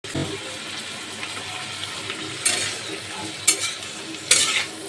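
Vegetables and roughly cut onions, with capsicum already softened, are stirred as they fry in a pan: a steady sizzle runs throughout, broken by three louder scraping stirs near the end.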